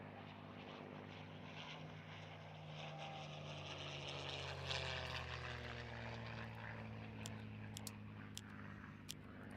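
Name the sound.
B-17 and B-24 bomber engines droning, from a video game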